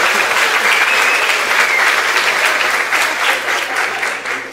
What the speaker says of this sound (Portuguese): O moço vai aplaudir